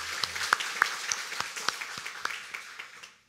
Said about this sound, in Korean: 한 번 더 박수 드리면 좋겠습니다